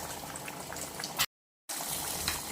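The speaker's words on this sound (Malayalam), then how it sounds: "നന്നായി തിളച്ചിട്ടുണ്ട്. കുറച്ച് നേരം കൂടെ നന്നായി തിളക്കട്ടെ." Sardine fish curry boiling in a pot, a close, continuous bubbling simmer that cuts out briefly midway, then resumes at the same low, steady level.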